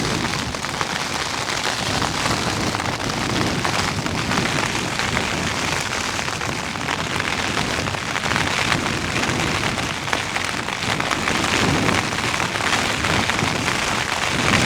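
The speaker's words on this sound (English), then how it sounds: "The rain is so loud." Heavy rain drums steadily and loudly on a tent at night during a storm with strong wind, a dense unbroken roar of close impacts from start to finish.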